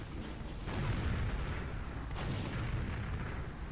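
Gunfire in a Team Fortress-style multiplayer shooter, a sniper rifle shot booming at a distance amid a continuous rumbling wash of battle noise, with no talk over it.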